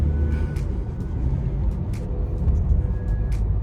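A Toyota 86 with its stock exhaust cruises along a bendy road, its engine a steady low hum and drone from inside the cabin, with faint clicks and squeaks over the continuous road rumble.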